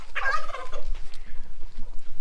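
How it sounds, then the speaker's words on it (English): Small call ducks give a quick burst of nasal, chattering calls up close, followed by quieter shuffling and faint low noises. "There you go, little call ducks."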